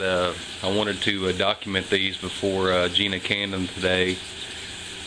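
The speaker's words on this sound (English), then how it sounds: "so if you hear the sizzle behind me, that's what that is" Breakfast sizzles in a frying pan as a faint, steady hiss in the background while a person talks close by over it.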